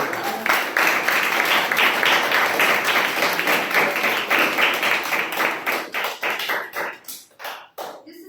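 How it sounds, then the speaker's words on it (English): Round of applause at a Toastmasters club meeting, a room of people clapping briskly and close by, the sound thinning into scattered individual claps before it dies away. "Let's give a round of applause."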